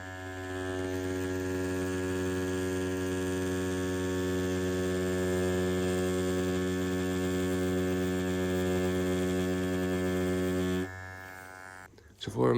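A Dragonhawk L3 tattoo machine fitted with a 9-round liner cartridge runs alone with a steady, loud electric buzz and strong hum, holding constant for about eleven seconds before cutting off with a brief clatter at the end.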